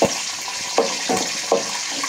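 Mustard seeds, chana dal and moong dal crackle in hot oil for avalakki upma, a steady close sizzle broken by a few sharper stirring clatters at regular intervals.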